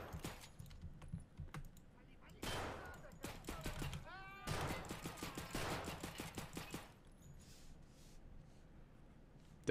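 Gunfire from the video game Escape From Tarkov: sharp bursts of hip-fired shots, some rapid automatic strings and some single semi-automatic cracks, come in clusters with short pauses, loud and close, along with faint clicking.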